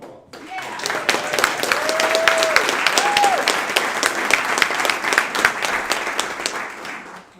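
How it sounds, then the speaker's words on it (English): A crowd at a graduation ceremony breaks into sustained applause, loud and dense clapping that swells and holds for several seconds, with a few brief tonal whoops or voices cutting through. "Let's give a round of applause"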